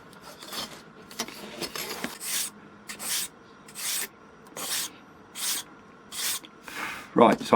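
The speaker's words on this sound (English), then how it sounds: "So you can just sand the brown off square if you like." Sandpaper rubbed along the edge of a balsa RC glider wing, heard as eight or nine rhythmic rasping swipes at an even pace, close and fairly soft, with a brief voice near the end.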